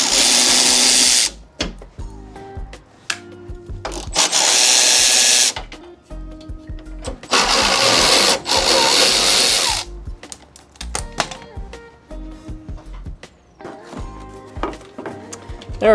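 A power tool removes 10 mm headlight bolts on an AP1 Honda S2000, giving several loud, close whirring bursts separated by short ratcheting clicks and quiet gaps.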